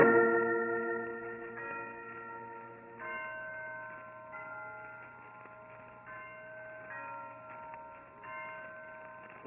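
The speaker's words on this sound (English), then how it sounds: "Listen to those bells, Holmes." Historic Blandford church bells ring out from their bell tower in an old-time radio drama, a faint, somewhat distant peal of overlapping tones sounding in irregular succession, with no talking.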